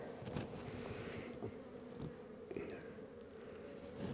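Honey bees buzzing around an open hive during a spring inspection, a continuous low drone of many bees with individual insects passing close, fairly quiet and without talk.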